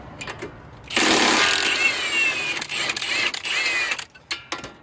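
A 7/8 socket on an extension loosening a driver-side strut nut, producing a loud close whirring burst of power-tool spin followed by shorter ratcheting and clanking bursts.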